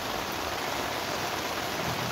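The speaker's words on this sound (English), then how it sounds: "I'm in a tent right now, getting rained on. It's pouring." Heavy monsoon rain pouring onto a tent at a desert campsite in southern Arizona, a dense constant hiss of drops drumming on the fabric, steady and close with no voices.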